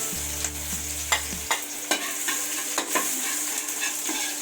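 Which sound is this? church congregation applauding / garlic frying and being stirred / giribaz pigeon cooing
garlic frying and being stirred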